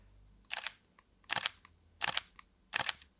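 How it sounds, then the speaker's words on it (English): A Fujifilm camera's shutter fired four separate times, each a crisp sharp click spaced under a second apart, close and isolated against quiet room tone. "Let me give you a shutter click."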